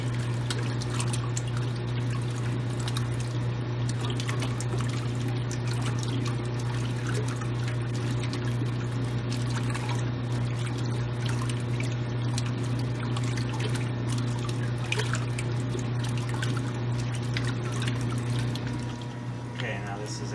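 A 1978 Kenmore washer with a dual action agitator runs its first wash, giving a steady motor hum under continuous water sloshing and splashing that goes on without a break.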